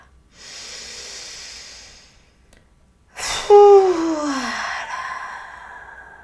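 Deep breathing during a guided meditation: a long soft exhale, a pause, then a sharper audible intake that trails into a sighing breath out, close to the microphone with no speech.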